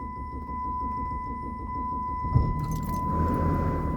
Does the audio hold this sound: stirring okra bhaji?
no